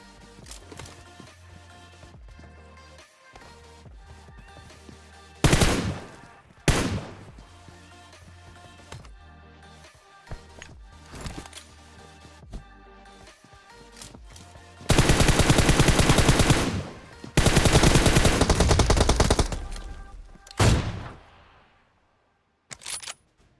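Bursts of automatic gunfire in PUBG Mobile crack out in loud clusters, with scattered single shots and clicks between them and two long, dense volleys near the end.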